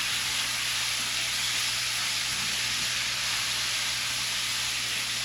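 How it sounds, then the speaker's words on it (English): A pan being deglazed with onions and garlic hisses and sizzles loudly and steadily throughout, a dense continuous steamy crackle with no talk. "deglaze your pan with your onions and garlic."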